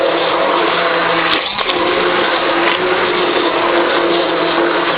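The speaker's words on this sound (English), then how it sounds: "we're going to quickly use the hand blender here. Blend this." A hand blender whirs steadily through broiled tomatoes for a tomato purée, loud and close, running without pause with only a brief dip in pitch midway.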